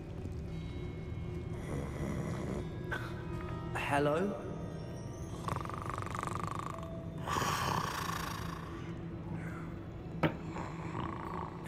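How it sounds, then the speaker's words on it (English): Snoring from a sleeping figure inside Gringotts in the video game Hogwarts Legacy, a low rhythmic rumble running steadily under game ambience and music, with a brief spoken word partway through. "I hear someone snoring."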